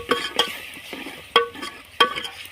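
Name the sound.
water poured into a sizzling tomato tempering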